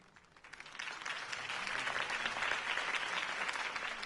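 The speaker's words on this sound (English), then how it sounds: "If only Mr. Wayne, my campaign's largest backer, could have heard that applause" Applause from a crowd in the video game Batman: The Telltale Series swells up after a quiet start and continues as dense, steady clapping.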